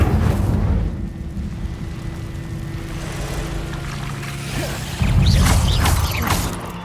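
Incendio fire spell cast in the Hogwarts Legacy video game, a loud whooshing, roaring burst of flame over a steady low rumble, swelling again near the end, with no talk.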